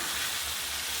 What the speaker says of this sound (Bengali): এই যে আমি এটাকে একসাথে করে এই যে কষিয়ে নিচ্ছি